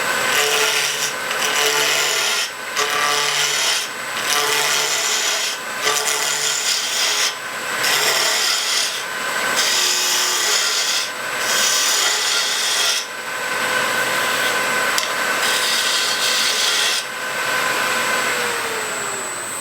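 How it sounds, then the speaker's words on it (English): A 45-degree bevel bowl gouge cuts a spinning wooden cube down toward a cylinder on a lathe, giving a loud, continuous scraping rasp broken by short, regular pauses. "I am using a 45-degree bevel bowl gouge."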